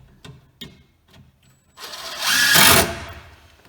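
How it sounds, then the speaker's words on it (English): A power drill driving screws to mount an old Craftsman router into a homemade router table: a few short taps, then a loud rising whir of the drill that builds, peaks and cuts off, close by. "I'm making a router table. Screwing this thing in."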